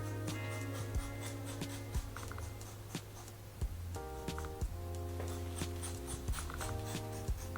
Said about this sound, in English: just opening and closing the shears